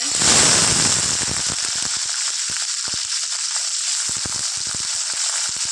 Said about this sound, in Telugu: దీన్ని ఫ్రై చేసుకున్నాం మిర్చిని